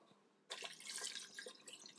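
Water pours into an Instant Pot over dry penne pasta, a sudden splashing rush that starts after a quiet half second and carries on steadily, close up.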